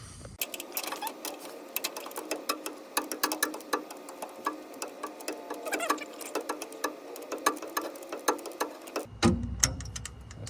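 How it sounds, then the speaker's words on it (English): Rapid, sharp clicks from a torque wrench tightening TorkLift tie-downs on a Ford F-350, a close, steady ratcheting patter running for several seconds before a brief rustle at the end. "Okay, I'm gonna get the torque wrench."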